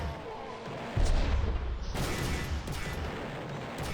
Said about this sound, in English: God, that mortar sounds cool when it fires.